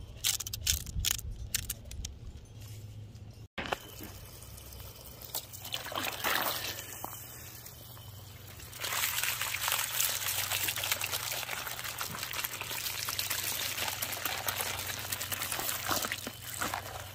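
Water trickles and pours over freshly tumbled rocks to rinse off soapy residue, a steady close splashing that swells louder partway through and keeps running alone without talk.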